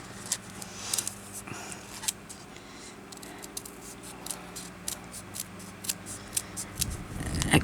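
Small scissors snip through stumpwork fabric at close range, with repeated crisp cuts in irregular bursts and a few quiet handling rustles between them.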